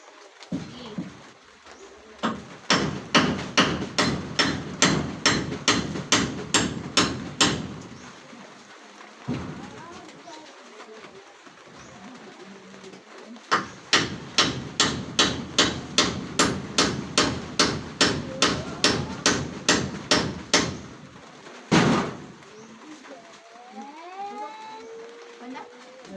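Hammer driving nails into hard bahi wood while replacing a tarpaulin roof with metal roofing sheets, heard as two long runs of rapid, evenly spaced loud blows separated by a pause, with some talk near the end.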